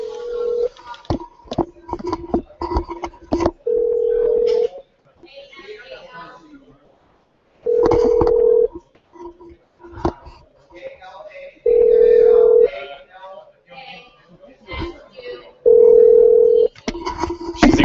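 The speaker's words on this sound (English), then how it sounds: "Ignoring my phone call" Telephone ringback tone repeating in regular bursts while a call goes unanswered, loud and close, with people talking in the pauses between rings.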